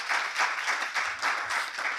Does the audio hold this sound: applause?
yes